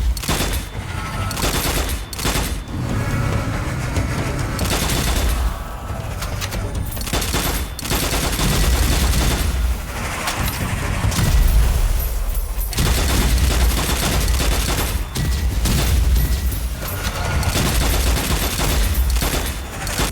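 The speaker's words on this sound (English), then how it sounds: "The sound of this gun has this good kick to it." Rapid burst-rifle gunfire from the shooter game Strange Brigade, dense volleys of loud punchy shots in quick succession with brief pauses between bursts, near and dominant throughout.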